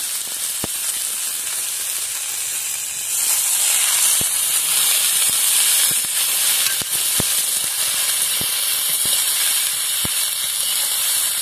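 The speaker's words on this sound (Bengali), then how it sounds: "এবারে আমি আলু আর কুমড়ো খোসাগুলো দিয়ে দিলাম।" Potatoes and pumpkin peels frying in oil in a pan, a loud continuous hissing sizzle that swells after a few seconds, with scattered sharp ticks and clicks of a spatula against the pan and no talking.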